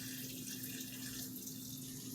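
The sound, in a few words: pouring spring water into blender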